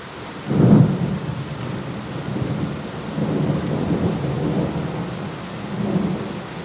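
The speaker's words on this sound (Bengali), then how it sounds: "হঠাৎই বৃষ্টিটা এলো বলে একটু আটকে গেছি।" Heavy rain pours steadily on surfaces outdoors while deep thunder rumbles roll through several times, one sharper crack near the start followed by softer, drawn-out rumbles.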